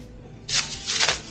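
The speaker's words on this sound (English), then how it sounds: "are these grocery plastic bags always the most difficult things to open?" Plastic grocery bag being rubbed and pulled open in a kitchen, two short bursts of crisp, close crinkling rustle over a quiet room.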